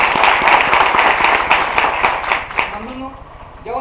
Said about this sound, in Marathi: सर्वप्रथम एक जोरदार टाळ्या वाजून आपण त्यांचं स्वागत करायचं आहे